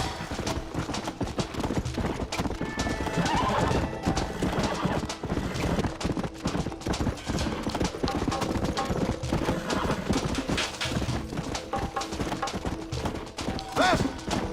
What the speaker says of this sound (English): Get away from them horses!